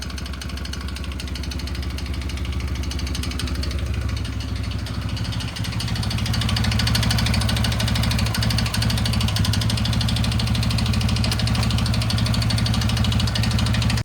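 Yamaha Grizzly 600 ATV engine running poorly with the choke on, a loud, continuous rough idle that swells slightly partway through, close by with no talk.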